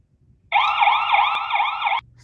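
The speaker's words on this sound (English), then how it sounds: "What about the siren?" An Anpviz 8MP IP PoE outdoor security camera's deterrence siren wails loud and close in a rapid rising-falling electronic whoop for about a second and a half, starting and stopping abruptly.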